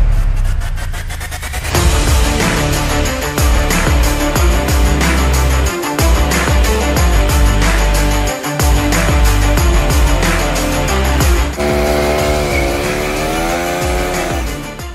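A 1975 Corvette V8 with a newly upgraded carburetor cranks briefly and fires, then idles loudly and steadily nearby with a rough, throbbing rumble and a few revs, with no talk over it.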